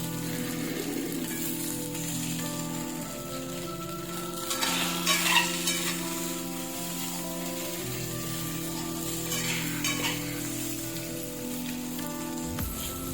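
Chicken momo filling being stir-fried in a pan, a steady sizzle with scraping stir strokes running throughout under a sustained musical tone, no talking.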